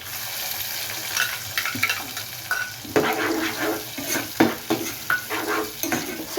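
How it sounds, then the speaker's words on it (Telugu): Onion paste with cumin frying in a pan, a soft steady sizzle broken by spoon scrapes and clacks against the metal, close up with no voices. "పచ్చివాసన పోయే వరకు ఫ్రై చేయాలి"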